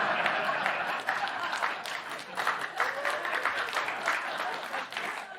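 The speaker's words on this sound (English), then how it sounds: "You applaud that." Studio audience applause, a steady dense wash of clapping that stays loud and continuous throughout without breaks.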